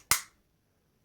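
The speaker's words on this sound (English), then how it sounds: "move our barrel bushing back in place, and that should snap right in, just like so." A 1911 pistol's barrel bushing snaps into place during reassembly: one sharp, close metallic click that rings out briefly and fades, with nothing else around it.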